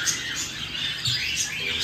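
Caged pet birds squawk and chirp in short, close, fairly loud bursts over steady background noise, with no talking.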